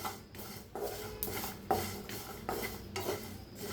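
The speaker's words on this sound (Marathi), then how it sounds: "असं भाजायला लागले तीळ बी, आवाज येत असेल तुम्हाला।" Sesame seeds roasting in a pan with garlic and cumin over medium heat: quiet, rhythmic scraping strokes of stirring repeat about every half second over a faint, dry sizzle.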